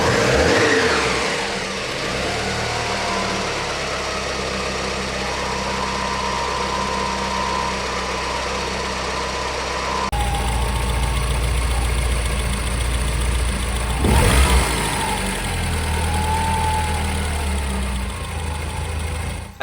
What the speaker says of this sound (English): a brief high-pitched whining sound coming from the engine at cold start